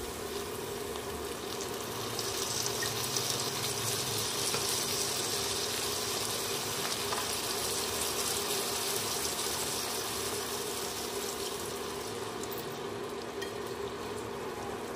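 Water poured into a pot of sour mango dal cooking on the stove, a steady broadband sizzle and gush lasting the whole stretch, close and fairly loud with no talk.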